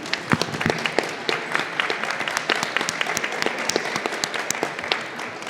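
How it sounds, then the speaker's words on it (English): An audience at a horror convention reunion panel for Nightmare on Elm Street claps in a steady, dense round of applause that holds throughout at moderate distance, with sharp individual claps standing out. "let's give them one more round of applause"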